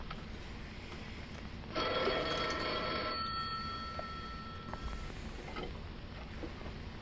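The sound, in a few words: telephone ringing in an old short film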